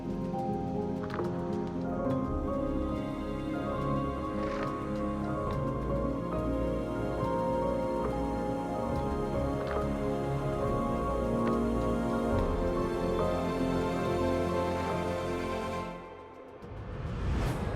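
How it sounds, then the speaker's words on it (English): Rain falls steadily outdoors in a wooded lowland near a river, hitting leaves and surfaces with a continuous patter close to the mic. A brief whoosh comes near the end. "Raining again."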